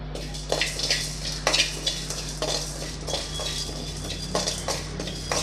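Whole spices such as cardamom and cloves dry-roast in a pan without oil, with a faint crackle beneath repeated scraping and clinking of a utensil stirring against the metal, steady and close.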